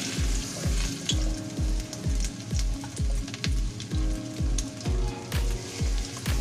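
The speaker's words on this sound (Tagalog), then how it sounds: "Pa-fry na po natin yung ating chicken" Chicken pieces frying in a heated pan, a steady broadband sizzle running throughout, with a regular pulsing low thump, roughly every half second, beneath it.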